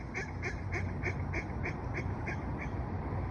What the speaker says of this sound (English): Oh, that was the saddest little duck quack I've ever heard.